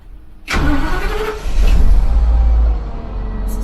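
A school bus engine cranks briefly and fires up, settling into a loud, steady diesel rumble and idle with no talking over it.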